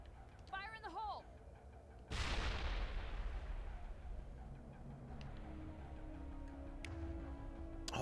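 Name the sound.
grenade explosion in the video game Mass Effect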